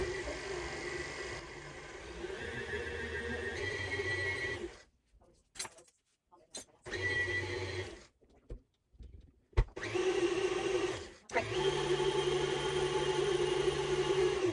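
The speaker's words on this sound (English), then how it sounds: "Now you're going to mix that together." An electric mixer whirs through chocolate whoopie pie batter with vanilla, with loud steady motor runs that stop and start several times, separated by short near-silent pauses.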